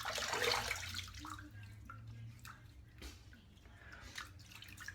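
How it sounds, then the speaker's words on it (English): Hot water splashed by hand onto a cold face during a shave, a close wet splash at the start followed by faint drips and soft trickles, no talk. "I'm going to pop some hot water on my ice cold face"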